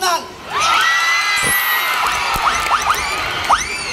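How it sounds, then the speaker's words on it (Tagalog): A crowd at a mall promotional event for the film The Breadwinner at Riverbanks cheers loudly, with scattered high whoops and shouts rising over a constant roar of voices. "Magpalakpakan na may kasamang hiyaw lahat"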